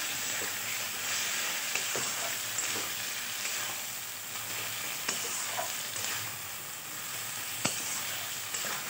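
Mutton masala sizzles and hisses in a pan after a splash of water is added, a steady bubbling fry with occasional sharp clinks of stirring, fairly quiet and close.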